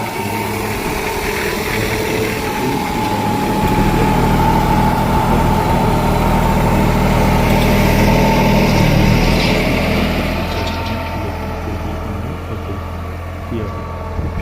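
A tractor working a natural-farming plot on its eighth pass, its engine running steadily nearby with a low droning hum that swells louder through the middle, then eases off.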